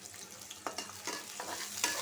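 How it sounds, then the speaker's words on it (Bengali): Onions and green chillies frying on a griddle pan, with a soft continuous sizzle broken by a few scraping stirs. The sound is close and fairly quiet. "কারণ ভাজি করব পেঁয়াজ কাঁচামরিচ"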